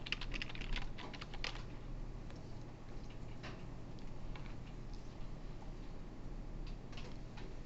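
Quick bursts of keystrokes on a computer keyboard during a programming lecture, close clicking clusters with pauses between, over a steady low room hum.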